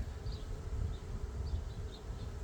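Steady, dense buzzing of many honey bees at close range at a hive, a continuous low drone with occasional higher whines of individual bees passing.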